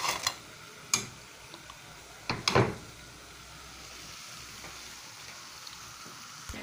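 Bolinhos de chuva dough balls frying in oil, with a faint steady sizzle and a few sharp clicks and knocks from utensils near the pan.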